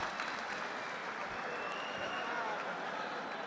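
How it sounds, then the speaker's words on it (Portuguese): A crowd applauds at a rap battle semifinal, a continuous wash of clapping and crowd noise at moderate level with some voices mixed in. "Uma salva de palmas"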